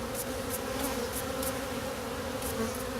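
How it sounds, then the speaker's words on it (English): Honeybees buzz steadily around a honey frame as they are gently brushed off during a harvest, a continuous close drone with no talk. "So I want to get rid of these bees. Very gentle stroke so we don't hurt them."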